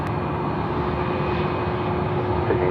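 A Qantas Freight Australia Post Airbus A321 jet taxis at night at Sydney Airport, its engines producing a steady, loud, droning rumble with a faint tonal whine, alone and unbroken.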